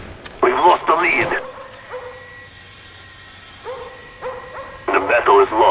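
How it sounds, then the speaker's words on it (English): Attack dogs bark and yip in a Call of Duty: Black Ops multiplayer match on PS3, coming in short loud bursts at the start and end, with a game announcer voice speaking between them. "Enemy dogs incoming."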